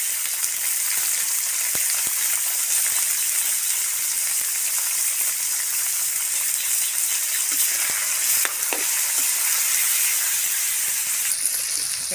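Beef with garlic and onion fries in a pan with a constant bright sizzling hiss, close and steady, with occasional faint clinks of stirring.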